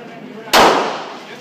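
A single sharp shot from a Glock 17 9mm pistol at a shooting range, a loud close crack with a short decaying tail, standing alone against low background noise.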